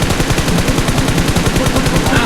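Rapid automatic gunfire from the battle royale game PUBG, with close, loud shots in a steady rattling rhythm throughout.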